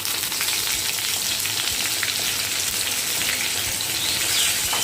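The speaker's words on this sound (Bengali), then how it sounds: "তারপর আমি এখানে টুকরো করে কেটে রাখা পটলগুলো একে একে দিয়ে দিচ্ছি" Chopped pointed gourd pieces fry in a pan with a steady, dense sizzle that stays loud and even throughout, with no one talking over it.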